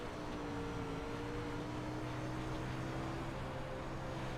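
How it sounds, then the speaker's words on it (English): Race car engine droning steadily as the driver works the throttle while sliding the car sideways, heard from on board, with faint shifting tones under constant noise. "Hear him working that throttle and moving the wheel."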